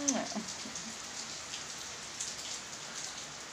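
Steady rain falls outdoors, a soft continuous hiss of drops on surfaces heard alone and fairly faint throughout.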